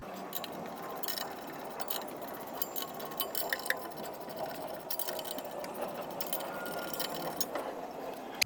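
Exhaust clamps are tightened on a 2021 Toyota Tundra during an 8-inch muffler install, giving a quick, steady series of sharp metallic ratcheting clicks close by, with a faint rumble underneath.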